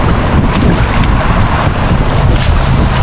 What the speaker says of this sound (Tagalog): Kahit medyo mahangin.